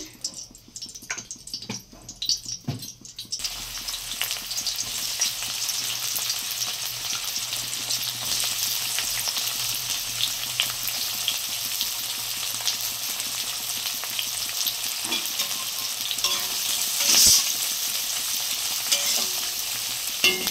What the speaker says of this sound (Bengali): কড়াইতে তেল দিয়ে দিচ্ছি।